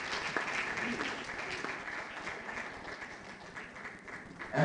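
An audience at a formal launch event in Ghana applauds steadily, a thick wash of many hands clapping at moderate distance, with voices faintly mixed in and a louder swell at the end.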